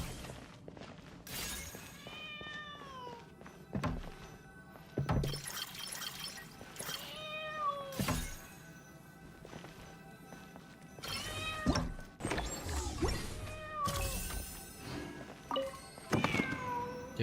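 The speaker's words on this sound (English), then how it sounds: "I can hear the cat cry over here now" A cat in a video game meows and cries repeatedly, with drawn-out wavering mews mixed with sharp cracking and thudding impacts in the game scene.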